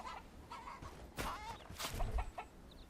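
Chickens in the Bellwright video game cluck and squawk in short bursts at close range over a low background hum, a few overlapping calls in quick succession.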